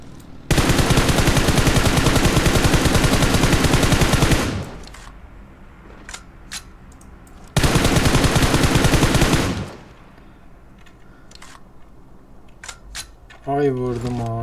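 Video game automatic gunfire aimed at enemies rips out in two long, loud sustained bursts, the first about four seconds and the second about two, separated by quieter clicks and faint game sounds.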